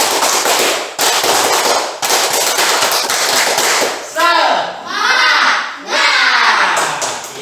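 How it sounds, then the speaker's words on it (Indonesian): A school class does a rhythmic motivational clap, loud bursts of group clapping alternating with shouted chants from many young voices, close and energetic, in repeating blocks. "Mari kita sama-sama melakukan tepuk semangat."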